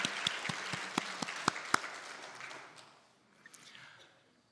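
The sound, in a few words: congregation applause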